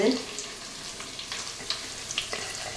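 Chopped onions sauté in oil for a village-style country chicken curry, making a soft, fairly quiet sizzle with occasional scraping and stirring taps over a few seconds.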